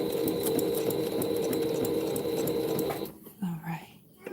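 A sewing machine runs steadily, back stitching the binding on a quilt, with a rapid mechanical whir and needle chatter that stops abruptly, followed by a quiet voice speaking close by.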